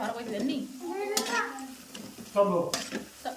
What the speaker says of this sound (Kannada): ಚಂದನೇ ಗೋಲ್ಡನ್ ಕಲರ್ ಬರೋ ತನಕ ಫ್ರೈ ಮಾಡ್ಕೋಬೇಕ್ರಿ